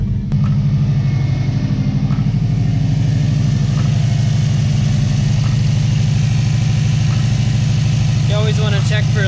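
A Subaru Baja fitted with a VF48 turbo runs just after starting, holding a steady, loud, low idle rumble throughout, with a faint voice near the end.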